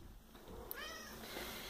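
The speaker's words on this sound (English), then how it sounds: "There's our cat, who's telling me he's hungry." A hungry house cat meows insistently close by, a drawn-out wavering cry over a quiet indoor background.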